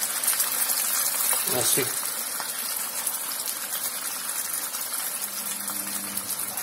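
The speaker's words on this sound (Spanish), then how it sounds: "A continuación ya le echamos el zumo de naranja por encima," Orange juice is poured over turkey in a pan, a wet gushing splash under steady background noise, near, while a person speaks briefly.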